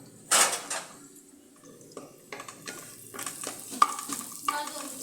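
Onions frying in a home kitchen pan, heard as a soft steady sizzle with repeated scraping and clinking of a spoon stirring against the metal, close and moderately loud, with no talking.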